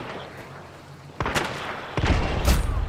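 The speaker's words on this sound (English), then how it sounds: "Oh my god, of course I died to the fucking explosion." Explosions in the video game Hunt: two heavy, close booms about a second apart, each sharp at the start and then rumbling on.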